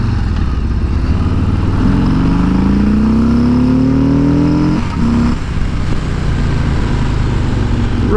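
A 2018 Harley-Davidson Street Bob 114 motorcycle accelerates loudly up close, its engine note rising steadily through a gear, dipping briefly at a shift, then pulling on under constant wind rush.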